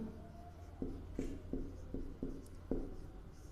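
A pen writing maths notes by hand for a Class 12 relations lesson makes six soft, evenly spaced scratchy strokes, quiet and close.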